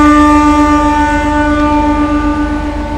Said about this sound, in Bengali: আর ছেড়েও দিল আমাদের ট্রেন